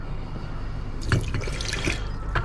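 Fresh distilled water poured to rinse CPU pins soaked in hydrochloric acid, a splashing, trickling pour that begins about a second in and continues close up over a low background hum.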